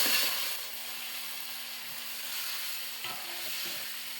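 Duck eggs go into a pan of spicy masala cooked down with green chillies, and a spoon stirs them through. A steady, close oily sizzle runs throughout, with small scraping stir bumps near the end and no talking.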